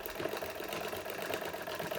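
A sewing machine back stitches along a skirt seam, giving a steady faint mechanical whirr with fine rapid needle rhythm, close by and alone.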